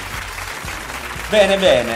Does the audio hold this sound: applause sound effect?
yes